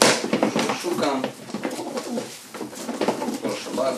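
Racing pigeons of the De Klak–Meulemans line coo in soft, repeated low calls, close by amid steady background rustling and noise.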